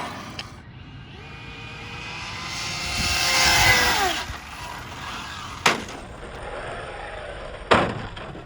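An Arrma Felony RC car's electric motor revs at full power, a rising whine that swells to a peak then falls away, followed by a couple of sharp knocks, fairly close.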